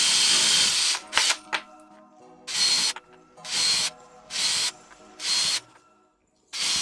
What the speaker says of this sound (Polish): Żeby nam się MDF, żeby nam nie popękał, musimy sobie go przewiercić mniej więcej w środku.